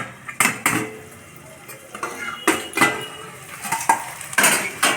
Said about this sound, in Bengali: আবার ঢাকনাটা উঠিয়ে নিচ্ছি।